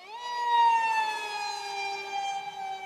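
NAMC MiG 35 RC jet with an NTM 2700 motor running on a 4S battery, its electric ducted fan whining at full throttle as a steady tonal scream that holds and eases slightly, close and alone.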